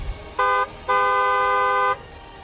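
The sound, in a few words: car horn honking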